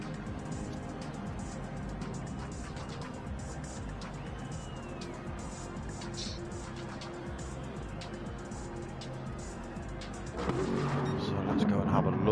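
An Aston Martin V8 Vantage racing around the Spa circuit in a racing game, its engine drone steady and fairly quiet beneath continuous commentary, swelling louder near the end as more cars close in.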